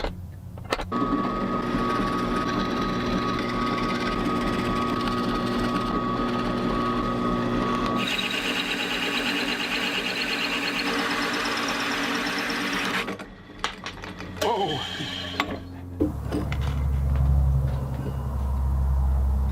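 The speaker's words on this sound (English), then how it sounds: "I used a 2-inch hole saw with 3/8-inch pilot holes around there" A 2-inch hole saw bores through wood for a leatherworking stitching pony, a sustained whining motor drone with a grinding bite that runs unbroken for several seconds, stops, and is followed by a few brief mechanical knocks and rumbles, with no voices.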